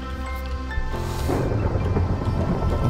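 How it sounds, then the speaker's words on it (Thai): Rain and rolling thunder in the Minecraft video game, a steady hiss of rainfall swelling as a low thunder rumble builds, heard alone without talk. "ฝนตกด้วย"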